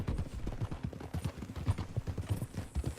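Horse hooves clip-clop steadily in the Red Dead Redemption 2 video game, a rapid, even trotting rhythm of close, clear knocks that keeps going without a break.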